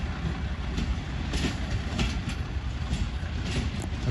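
The Hazara Express passenger train rolls past with a steady, loud rumble and rhythmic clatter of wheels on the rails, ending with its brake van at the rear.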